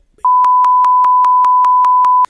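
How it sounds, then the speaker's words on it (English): A steady electronic censor beep near 1 kHz runs continuously for about two seconds, loud and alone, with faint pulsing in its level and no voice audible beneath it. "I'm going to pretend like put a beep over"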